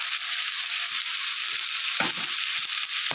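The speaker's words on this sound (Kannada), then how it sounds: "ಶುಂಠಿ ಬೆಳ್ಳುಳ್ಳಿ ಪೇಸ್ಟ್ ಹಾಕ್ಕೊಂಡು ಇಟ್ಕೊಂಡು ಶುಂಠಿ ಬೆಳ್ಳುಳ್ಳಿ ಪೇಸ್ಟ್ ಹಾಕ್ತಾಯಿದ್ದೀನಿ" Ginger garlic paste frying with onion paste in a pan for mutton ghee roast, giving a steady, fairly loud sizzle with a few brief stirring scrapes and clatters, with no talking.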